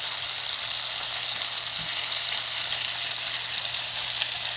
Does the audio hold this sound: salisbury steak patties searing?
yes